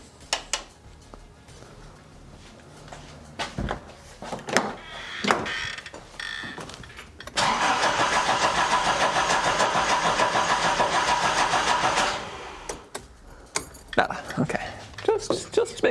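A Nissan 200SX engine cranks over for several seconds during ignition system diagnosis, with a loud steady starter churn that does not fire. Clicks, clunks and handling noises come before and after it, up close in a workshop.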